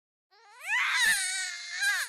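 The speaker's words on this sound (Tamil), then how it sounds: "குழந்தை அழுகிற சவுண்ட் கேட்குதுல?" An infant cries alone in a short, loud wail that rises quickly after a moment of silence, wavers, then swells again before breaking off.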